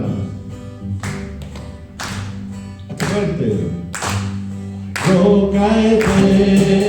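A church congregation claps in rhythm along to a worship hymn during a Sunday service, steady repeated claps mixed with music and singing, with a brief spoken call over the top.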